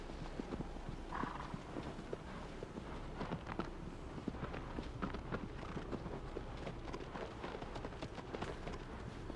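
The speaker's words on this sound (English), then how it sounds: "The clippity cloppity horse sounds do sound really nice." Horse hooves clip-clopping steadily in the remastered Shadow of the Colossus video game, a continuous rhythmic trot with soft game ambience behind it.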